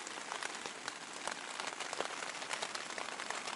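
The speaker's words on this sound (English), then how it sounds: "Cold, rainy day." Steady rain hiss on a cold, rainy day during a bicycle tour in Hokkaido, with blustery wind; a dense, continuous wash of drops, fairly close and even, no voices.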